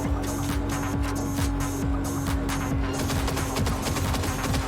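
Rapid, steady gunfire in the video game Cyberpunk 2077, a dense run of repeated shots over a constant low mechanical hum, loud and continuous throughout.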